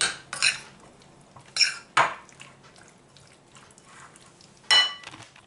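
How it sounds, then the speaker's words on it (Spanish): Beef loin and peppers stirred in a pan, with a few sharp clinks and scrapes of a utensil against the pan spaced out over a quiet background, close and fairly crisp. "Y ahora esto vamos a moverlo y mezclarlo"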